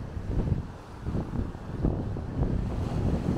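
Wind gusts across a beach south of Loreto in Baja, buffeting the microphone as surf rumbles in low, steady waves, a constant roar with no voices.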